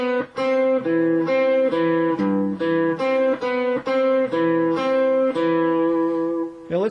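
Guitar playing measure 2 of a Bach piece, a continuous run of clear plucked notes in a flowing, evenly paced pattern, close and solo with no talking.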